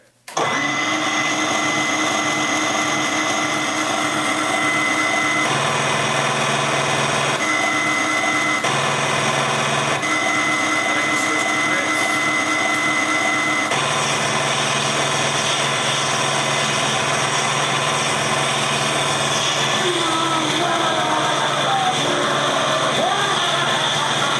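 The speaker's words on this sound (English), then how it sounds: "So this, we'll spin it up and fire it." A Team Fortress 2 Heavy minigun prop replica spins up its motors with a sharp start and settles into a loud, continuous mechanical whine. The pitch shifts a few times as it fires, and the sound carries on alone.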